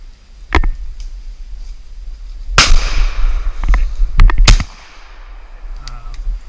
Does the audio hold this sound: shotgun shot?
yes